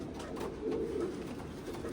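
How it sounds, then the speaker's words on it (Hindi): Jamuni pigeons of the original Deoband line coo in a low, steady murmur, a soft continuous rumble with a slightly stronger swell near the middle. "ओरिजिनल देवबंद के कबूतर"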